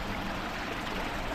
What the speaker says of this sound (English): but we got this little creek here